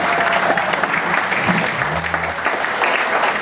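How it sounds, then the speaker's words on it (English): An audience at Hugh's Room, a music venue, gives a dense, sustained round of clapping during a songwriting showcase evening, steady and close throughout, with a faint voice briefly beneath it. "Hugh's Room, I think they deserve a big round of applause"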